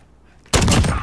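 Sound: Dragunov sniper rifle shot in Road to Damascus video game

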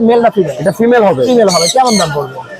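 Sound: grey parrots squawking at a bird market

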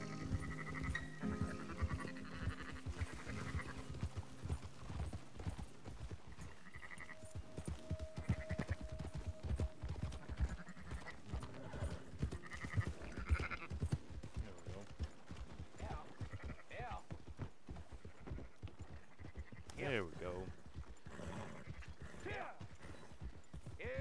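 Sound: sheep bleating, from the video game Red Dead Redemption 2

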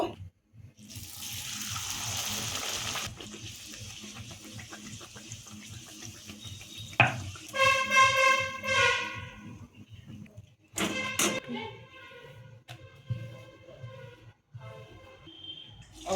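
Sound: frying matar kachori in oil

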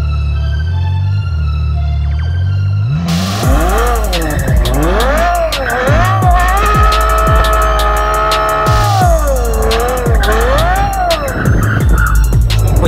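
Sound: car skidding in a drift

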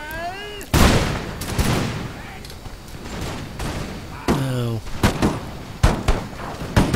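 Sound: puckle guns firing in Empire Total War Darthmod, video game

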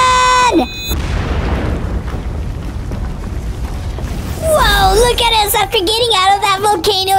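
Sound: explosion in GTA 5 video game

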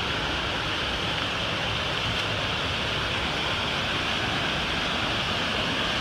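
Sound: Hitchcock Creek waterfall flowing water

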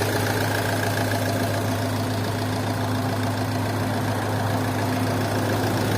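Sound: car engine idling, chain-driven motor

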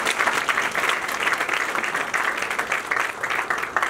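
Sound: audience applause for the head of state

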